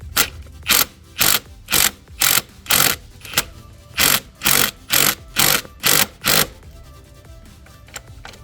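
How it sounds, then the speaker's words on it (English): An impact wrench with an 18mm socket hammers on a transmission mount nut of a 2013 Nissan Altima 2.5L. It fires about a dozen short, loud, evenly spaced bursts with brief pauses between them, then falls quiet. "We use the 18mm socket with the impact wrench"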